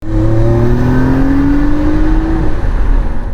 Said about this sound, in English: The sound of the engine was so nice.